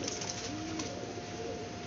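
A pigeon coos softly a couple of times, low and fairly close, over a steady background hiss.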